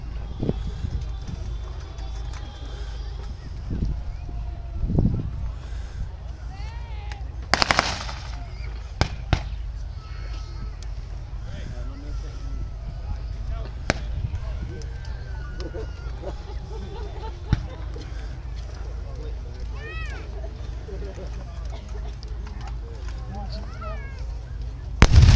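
Wartime reenactment battle with German mortars and gunfire, scattered sharp bangs and booms, some distant and some nearer, over steady crowd murmur and background talk, with a louder burst near the end.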